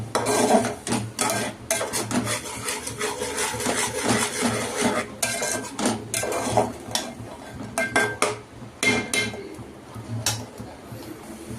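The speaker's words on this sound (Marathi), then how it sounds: "मसाल्याला चांगलं तेल सुटेपर्यंत आपण ह्याला मसाला चांगला भाजून घेऊया" A metal spoon stirs masala roasting in oil in a pan for a drumstick and potato rassa, giving loud, busy clinks and scrapes against the pan in quick, uneven bursts. No voices are heard.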